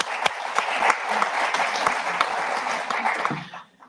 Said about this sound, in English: a little bit of a round of applause for them